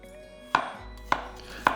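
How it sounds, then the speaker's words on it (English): A knife cuts unpeeled ginger into slices and matchsticks on a board: three crisp, evenly spaced chops ring out close and clear over near silence. "Cut your ginger into slices, then into matchsticks."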